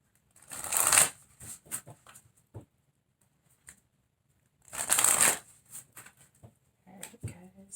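Oracle cards from The Universe Has Your Back deck riffle and shuffle in two loud, close bursts about four seconds apart, with softer card taps and handling between them and a brief rustle at the end.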